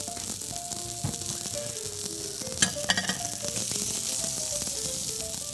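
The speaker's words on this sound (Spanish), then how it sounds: "Ahora vamos a freír un poco con un poquito de mantequilla" Salmon fries in a little peach butter, giving a continuous close sizzle and crackle with a short burst of clattering stirring partway through and no talking.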